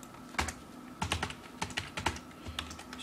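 Keys clack on a computer keyboard as text is entered in Adobe Illustrator, a close, uneven run of short taps in small clusters with brief pauses, and no voices.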